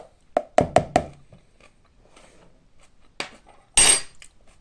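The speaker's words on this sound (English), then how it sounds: "I'm going to put my lid back down" Plastic Ejen kimchi fermentation container lid is pressed down, giving a quick run of four hollow knocks and clacks, then quiet, a softer tap and a final louder clattering press, close and dry.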